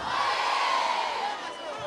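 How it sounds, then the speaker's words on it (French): A school crowd cheers and applauds loudly for an honoree at a recreation event, a dense sustained roar of shouts and claps that fades slightly toward the end. "On applaudit très fort pour le chargé."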